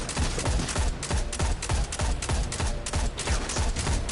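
Gunfire rattles in the sci-fi shooter Destiny 2 as a rapid string of sharp shots at a steady rhythm, loud and close, with no voices over it.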